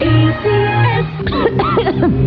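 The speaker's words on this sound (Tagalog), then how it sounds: "Ubo, plemang nakabara, hirap sa paghinga." Harsh, chesty coughing in a cough medicine advertisement about phlegm and congestion, several close, loud hacking coughs in a row.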